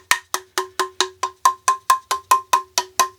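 An ICON dead blow ball peen hammer strikes repeatedly in a fast, steady rhythm, about fourteen sharp ringing metallic blows with short decays, loud and close with no talk.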